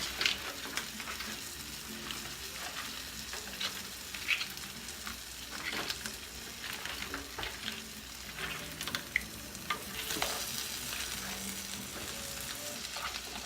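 Large Japanese scallops searing in a paella pan, a busy continuous sizzle with crackling pops and occasional scraping stirs, fairly close and with no talking.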